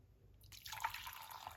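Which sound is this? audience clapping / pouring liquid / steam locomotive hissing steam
pouring liquid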